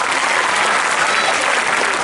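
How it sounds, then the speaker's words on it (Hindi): An audience at a railway crossing inauguration on a ring road in Nagda applauds, a dense, loud burst of steady clapping from a close crowd. "ये कंजूसी में ताली में बजाओ, या जोर से बजाओ"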